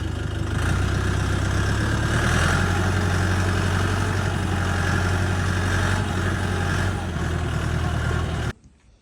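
A Dongfeng 404 G2 tractor engine idles steadily at a low rumbling pitch, close by and constant, then cuts off abruptly near the end.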